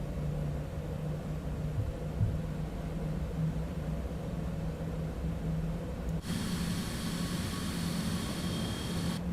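A Citation X jet back taxiing in a flight simulator makes a steady, droning engine rumble and broad hiss. Partway through, a brighter high-pitched whine joins in and holds to the end, with no talking.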